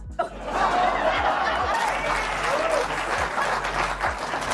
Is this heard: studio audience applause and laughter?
yes